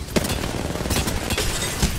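Rapid close gunfire from a weapon in Apex Legends rattles in a dense burst of repeated shots, loud and continuous across the moment.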